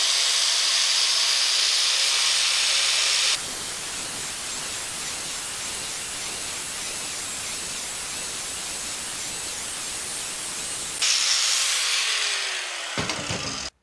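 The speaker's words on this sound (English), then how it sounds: "I'm just going to take my wire wheel here and just kind of lightly go back and forth." Wire wheel lightly scraped back and forth across powder-coated metal pieces, a harsh hissing abrasion that starts loud, drops to a quieter steady scrape for several seconds, then swells loud again before stopping abruptly.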